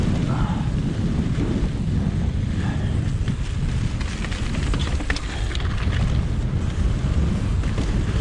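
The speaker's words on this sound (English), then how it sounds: "that wind is so strong" Strong, steady wind buffets the microphone on an exposed section of a mountain bike descent at Fort William, a loud broadband roar that stays constant throughout with no clear talk over it.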